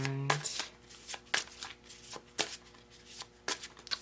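Tarot cards being shuffled to draw another card, a series of sharp riffling bursts repeating roughly every second, close and fairly quiet with no talk over them.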